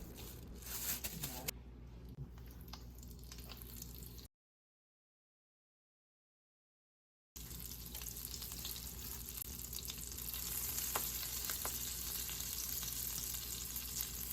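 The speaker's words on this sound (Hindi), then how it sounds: "अभी इसके कबाब बना के फिर फ्राई करते जाएंगे, शैलो फ्राई" Bread-crumb-coated kebabs shallow fry in a pan with a steady crackling sizzle, broken by a few seconds of complete silence before the frying noise returns slightly louder.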